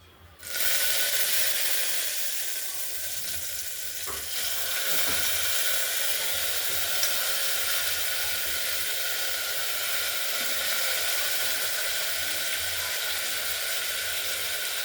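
Washed mung dal sizzling in a hot pan as its leftover water cooks off, a steady close hiss that starts abruptly and holds evenly throughout, with no voices.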